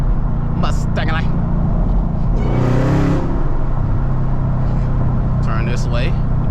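A Camaro ZL1 with a six-speed manual gearbox revs up in one rising surge midway through, its engine note and whine swelling under loud, near-continuous talking inside the cabin.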